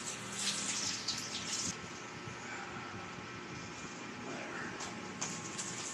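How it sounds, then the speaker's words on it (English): Hands are washed under a running kitchen tap while cinnamon rolls are being made, a steady close rush of water with brief splashy bursts early on. "I'm going to wash my hands."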